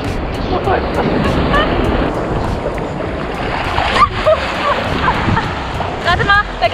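Ocean surf washes continuously nearby at Playa Marlín, Cancún, a broad rushing roar, with faint voices and brief high chirps over it.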